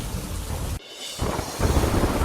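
Heavy rain pours with a dense, loud hiss while thunder rumbles low underneath, briefly dipping before the downpour surges back stronger.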